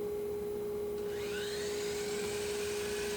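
A power tool cutting a wooden board held in a jig, a steady whining machine drone with a constant tonal hum and a rising grinding whir as the cut proceeds, no voices.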